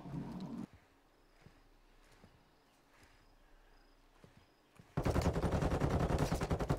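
Automatic gunfire in a Call of Duty ranked Search and Destroy match, with a brief burst at the start, faint scattered shots during a quiet stretch, then a sustained loud rattling volley in the final seconds.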